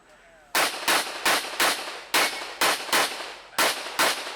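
A rapid series of loud, sharp gunshots at an outdoor USPSA practical shooting match, about ten close reports in quick bursts, with brief pauses between strings of fire.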